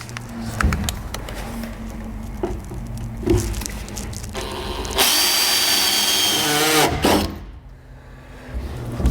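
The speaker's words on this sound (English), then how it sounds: "So I'm just using a drill bit large enough to fit the blade of the jigsaw in." A power drill whirs in short bursts, then a louder sustained grinding stretch as the bit bores through a hard plastic boat dash before stopping.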